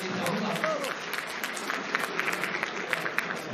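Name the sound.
audience applause for folk dance artists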